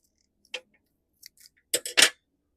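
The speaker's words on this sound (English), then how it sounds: "I'm just going to do a straight cut." Straight-across cuts through a rose stem with secateurs while taking rose cuttings, heard as a few sharp, close snips, with one short crisp clip early on and a quick cluster of three near the end, otherwise quiet.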